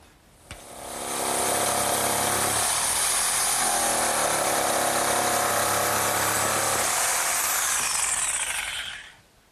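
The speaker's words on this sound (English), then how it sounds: "And now I'll just cut both boards at once." A power saw cutting through two stacked wooden boards at once, a loud sustained whining buzz lasting about eight seconds, close by, with a brief bump before it spins up and a tapering stop.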